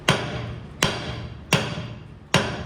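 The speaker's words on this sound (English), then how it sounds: "Even if you just give a quick little tap on the end," Four sharp metallic taps on the end of a 1969 Chevy C30 truck axle, evenly spaced with short ringing decay, close and loud in a quiet shop.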